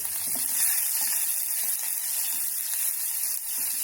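Crushed ginger, garlic, cardamom, cinnamon pieces and clove frying in hot oil in a pot for buttermilk curry, giving a steady, bright, hissing sizzle that stays loud and close throughout with no pauses.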